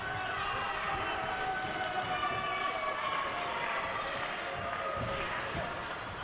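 A wrestling crowd in Hull roars and cheers at a final qualifying match of the David Boy Smith Cup Memorial Tournament, a steady, loud indoor din running beneath a commentator's voice.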